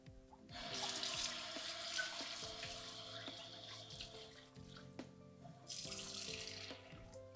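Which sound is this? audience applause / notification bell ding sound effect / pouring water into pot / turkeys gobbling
pouring water into pot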